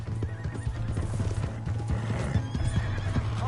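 Horse hooves clip-clop at a fast gallop in the Red Dead Redemption 2 video game, with loud neighing and whinnying over the steady hoofbeats and no talk.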